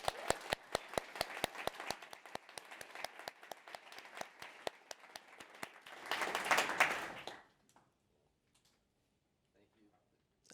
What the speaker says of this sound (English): Let's give a big round of applause for our panelists.